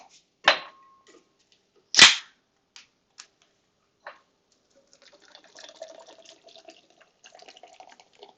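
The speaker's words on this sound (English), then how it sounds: "Let us pour another beer." Beer is poured: two sharp cracking pops, then a quiet stretch, then a soft, faint trickle of liquid running and fizzing for the last few seconds, with no talking.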